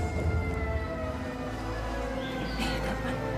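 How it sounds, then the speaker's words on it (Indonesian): An ambulance siren wails steadily in the background, holding a constant tone with faint variations, heard alone without talk. "Ambulan. Siapa tuh?"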